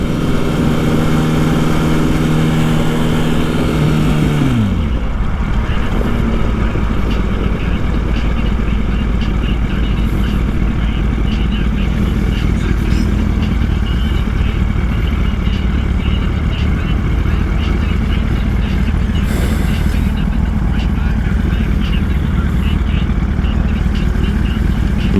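A 1000cc motorcycle engine runs close and loud, its revs dropping early before it settles into a steady, rough, throbbing rumble that carries on throughout.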